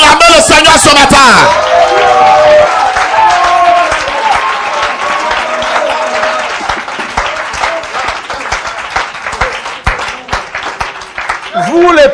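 A church congregation breaks into loud applause and cheering for the Lord, a sustained wash of clapping with whoops and shouts. A raised voice rings out at the start and again near the end.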